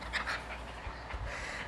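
A small Maltese terrier pants in quick, soft, rhythmic breaths close by. The sound is faint and brief and nobody talks.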